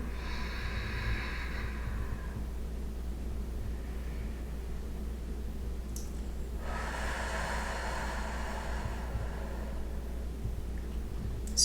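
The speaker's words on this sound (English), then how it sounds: "Nice natural inhale. Slow, smooth exhale." Slow, deliberate breaths during a back-care yoga session, a long soft inhale followed later by a smooth airy exhale, faint and close over a low steady background hum.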